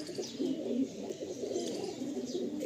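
Pigeons cooing inside a loft, a close chorus of low, throaty rolling coos that overlap continuously, with faint higher chirps mixed in.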